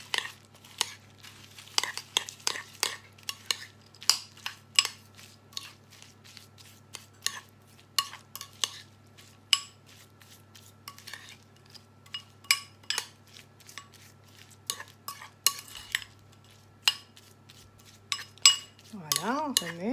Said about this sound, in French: Voilà, on remue.